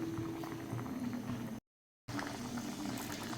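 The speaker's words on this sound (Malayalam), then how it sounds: "ഇനി നന്നായിട്ട് ഒന്ന് തിളക്കട്ടെ." Coconut-based fish curry boils steadily in a pot, a continuous close bubbling simmer with no talk, briefly cut to silence midway before the bubbling resumes.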